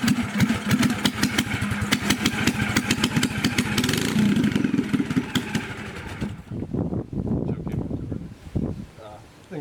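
A 390cc go-kart engine roars loudly at close range, its rapid pulsing exhaust revving unevenly before dropping to a rougher, choppier idle, with some talk in the mix.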